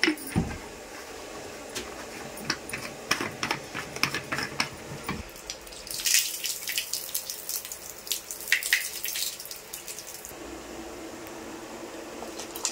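Water runs and splashes in a sink with clinks and clatter of items being washed; the flow grows louder and brighter midway, no talking.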